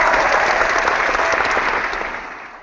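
Dense studio applause, a sound effect played loud over a live comic book chat show, a steady wash of clapping that holds strong and then fades toward the end.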